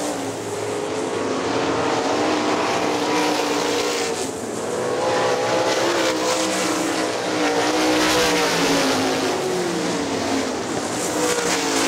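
Sprint cars race around the dirt oval at Hartford Speedway Park, a continuous loud roar of several engines with rising and falling pitch as cars pass and chase each other, with no voices.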